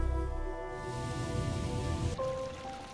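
Rushing water from a waterfall in the video game Hollow Knight, a constant watery roar under sustained musical tones that shift near the end.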